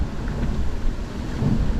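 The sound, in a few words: rain during a squall while sailing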